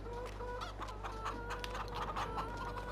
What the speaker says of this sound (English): so that's 40 chickens